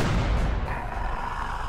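A single gunshot fires in OpenXcom, a close, heavy boom that rolls off into a fading rumble.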